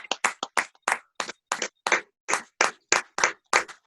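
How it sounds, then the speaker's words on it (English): A handful of people clap in a loose, irregular rhythm, about a dozen sharp close claps spaced apart with brief silences between them, with no talk. "And you guys clapping today?"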